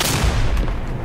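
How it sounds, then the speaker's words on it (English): Rifle grenade blast in the World War II shooter Day of Infamy: a dense, loud explosive roar heavy in low rumble, sustained and slowly decaying across the second with no voices over it. "Rifle grenade."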